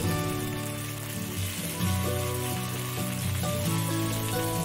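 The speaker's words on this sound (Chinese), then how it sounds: "然后可以将啲虾咧全部放晒落去一齐煎啦。" Shrimp and sliced garlic fry together in oil in a wok, a continuous close sizzle and crackle holding steady for several seconds, with no voices over it.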